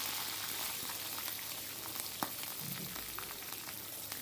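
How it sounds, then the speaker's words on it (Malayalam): Green chilies and curry leaves frying in hot leftover oil for a cauliflower fry, a faint, steady crackling sizzle with scattered small pops and no talking. "ബാക്കിയുള്ള എണ്ണയിലേക്ക് ഒരു 3-4 പച്ചമുളകും അതുപോലെ കുറച്ച് കറിവേപ്പിലയും കൂടി ഇട്ട് കൊടുക്കാം"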